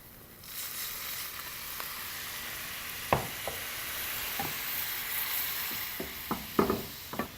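Pan sauce of wine and stock reducing around sautéed pork, a steady low sizzle and bubbling with scattered soft clinks and stirring knocks, close and moderately quiet, no talking.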